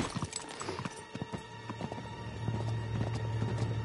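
Horse hooves clip-clopping in the Uncharted 3 video game, a steady rhythmic clatter over game music and ambient noise, growing louder and more regular toward the end.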